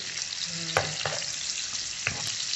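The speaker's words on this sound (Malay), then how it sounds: "Kita gorengkan dulu. Simple-simple aja. Okey. Goreng sampai garing." Sambal ingredients sizzle and crackle in hot oil as they fry until crispy, with a few sharper pops and stirring clicks over a steady hiss, no talking.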